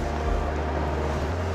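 Suzuki DF140B outboard motor pushing a Focchi 640 inflatable boat at reduced throttle while planing around 8 knots, a steady low engine drone with constant wind and water rush filling the mic throughout.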